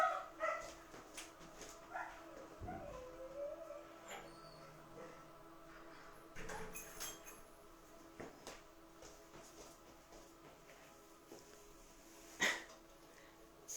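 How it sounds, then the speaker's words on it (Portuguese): A dog at home whimpers and gives small yipping sounds, faint and intermittent behind a closed door, with a few brief louder bursts over a quiet room. "a minha cachorra, quando ela me ouve, ela quer vir aqui também, tá? E ela fica fazendo um barulho"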